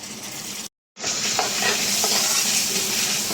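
Ginger garlic paste sizzles and fries with onions in a pan while being stirred, a steady loud hiss broken by a short gap, with occasional spatula scrapes.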